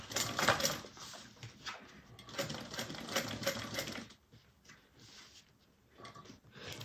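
Sewing machine topstitching a bag seam, rapid mechanical chattering in bursts with short pauses between runs, close and fairly quiet, no voices.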